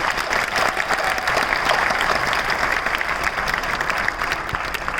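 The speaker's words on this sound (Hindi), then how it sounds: "अपने अभिनंदन में तालियां बजा लें।" An audience in a hall breaks into sustained applause to welcome the speaker, many hands clapping steadily and fairly loudly for several seconds with a faint murmur beneath.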